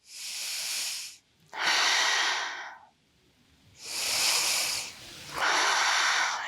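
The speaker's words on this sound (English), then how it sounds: "breathing here in our twist" Slow, deep yoga breaths held in a seated twist: four long, airy hissing inhales and exhales in close, even rhythm, each separated by a brief pause, with no talking.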